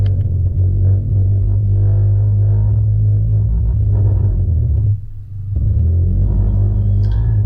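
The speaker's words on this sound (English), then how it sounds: "Pretty sure that sound you're hearing there is the wet brakes." Low rumbling off-road vehicle engine with a steady drone, a brief dip in the middle, and faint higher squeal near the end from wet brakes dragging.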